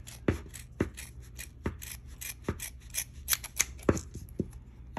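Scissors cutting through yarn to trim a pom pom make sharp, close snips that repeat irregularly, some crisp and isolated, others in quick runs with soft rubbing in between.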